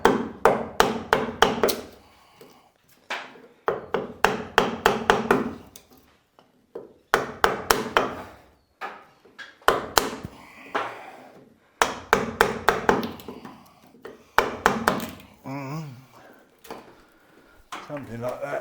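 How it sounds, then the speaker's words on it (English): Repeated sharp strikes of a chisel on wood aboard a boat come in quick clustered bursts with short pauses between, close by. "Chisel, I'm going to take those bits out."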